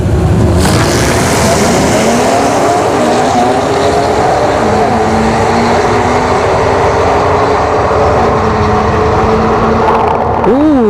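Two Infiniti Q50 cars drag racing at ShowTime Dragstrip, loud engines revving hard with rising tones as they shift through the gears in a steady run, ending with a sharp upward rev.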